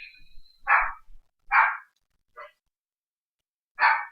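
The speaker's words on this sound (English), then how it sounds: "Babysitting a dog." A dog barks close by: four loud, separate barks spaced irregularly, one of them softer, with silence between them and no talking.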